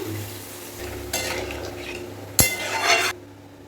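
Water poured into egg curry masala in a hot pan makes sudden bursts of loud sizzling, mixed with a sharp clink of utensils against the pan. The crackle surges, then cuts off to near quiet.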